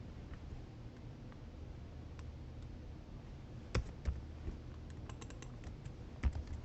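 Sparse keystrokes on a computer keyboard, a few soft scattered clicks with small bursts toward the end, close and quiet over a faint hiss, no talk.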